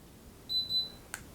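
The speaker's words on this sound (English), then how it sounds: "once you hear that beep, that means that's as white as it's going to go" A short, high electronic beep from an Artika Fandelier LED ceiling light sounds twice in quick succession at maximum brightness, faint against a quiet room, followed by a tiny click.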